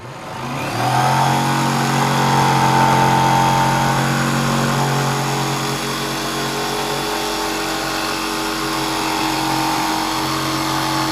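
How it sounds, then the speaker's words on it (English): A power tool cuts a hatch opening into a Jackson Big Tuna kayak, its motor spinning up quickly into a loud, steady whining drone that holds with little change for the rest of the clip. "So, I'm going to attempt to cut it out now."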